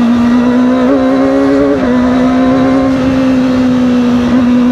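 2024 Kawasaki ZX25R SE motorcycle engine screaming at high RPM on a ride, a loud, steady, sustained whine held close up with only slight pitch dips, no talk.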